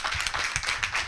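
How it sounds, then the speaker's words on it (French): Studio audience clapping for a doctor on an Ivorian radio health program, a moderate burst of uneven individual claps with a few sharper slaps, fairly close and without talk. "On applaudit très fort pour Dr Adouko."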